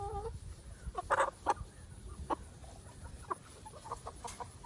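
Free-range chickens cluck in short, scattered bursts at moderate distance over a low outdoor background rumble, several calls overlapping irregularly with no one talking.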